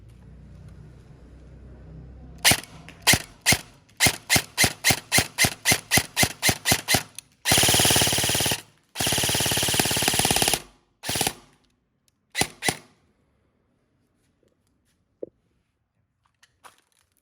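An E&C 642 S4 airsoft rifle with a suppressor fires a rapid string of single sharp shots, then two longer full-auto bursts, a few more shots, and sparse clicks as the magazine runs dry.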